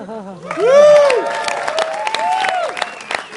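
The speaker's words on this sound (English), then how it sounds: "no applause should be spared for our outstanding parents, Pam and Larry" Wedding guests cheer for the parents, Pam and Larry, with loud whoops and voices rising first, then scattered claps.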